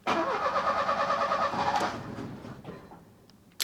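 An Opel Ascona engine with a faulty automatic choke cranks and catches, churning loudly for a couple of seconds before fading, followed by a brief click.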